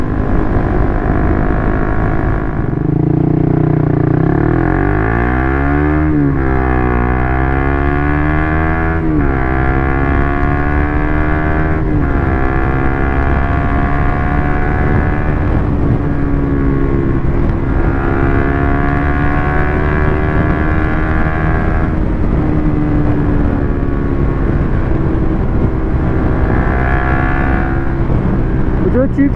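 A Suzuki GSX-R150 fitted with a Yoshimura GP-Magnum exhaust with its silencer baffle installed rides a suburban road. The loud, close engine note climbs and drops through repeated rev sweeps and gear changes under continuous wind roar.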